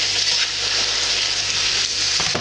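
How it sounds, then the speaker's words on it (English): Meat browning in a hot frying pan gives off a steady, dense sizzle close by, with a couple of faint clicks near the end and no voices over it. "Just browning this meat off."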